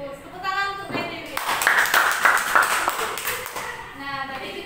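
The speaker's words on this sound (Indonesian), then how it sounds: "Tepuk tangan untuk Dewi." Classroom clapping for a student, a short burst of children's hand claps in the middle, between a teacher's spoken voice before and after.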